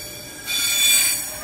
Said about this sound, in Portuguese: Mais um trem registrado aí por nós